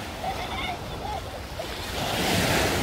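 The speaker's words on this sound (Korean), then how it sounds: "이 파도가 심합니다." Strong sea waves break and wash onto the sand at Eulwangni beach, a steady rushing surf that swells louder toward the end, with faint wind noise and a little distant talk.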